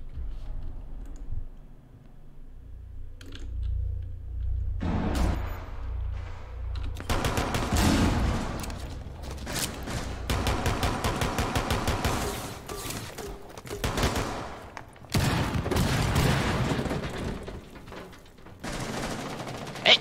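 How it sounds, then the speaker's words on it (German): Rapid bursts of gunfire from the video game Rainbow Six Siege, loud and close, with clicking and shots clustered in dense volleys after a quieter opening. "Ich hab doch auf ihn geschossen!"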